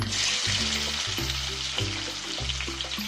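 Finely chopped onions frying in oil with tempering seeds and a dried red chili, a steady close sizzle broken by repeated bursts of crackling as the pan is stirred.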